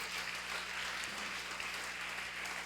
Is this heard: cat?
no